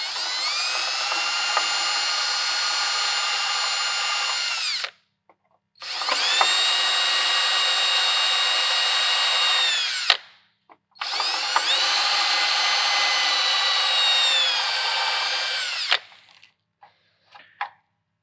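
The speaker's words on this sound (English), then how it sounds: "we're going to use the unibit to follow in this plastic" A step drill bit whines loudly through plastic during a 1997–2001 AW4 transmission override install, in three long, steady bursts of about five seconds each, separated by brief pauses, then a few faint clicks.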